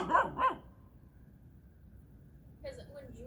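Two quick barks from a dog up close, sharp and loud, followed by quiet room tone and faint low noise toward the end.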